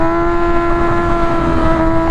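A motorcycle engine holds a steady, droning pitch during a wheelie, loud and continuous with a constant hum and no change in revs, and no talking over it.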